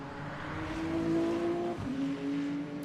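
A BMW race car in a video game at Silverstone howls at high revs with a steady engine whine, a brief dip as it shifts or brakes, then climbs again, heard alone without talk.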